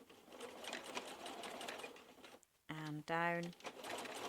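A domestic sewing machine stitches a patch pocket onto baby dungarees, its motor whirring in short close bursts with a pause between runs, while someone talks over and between the stitching.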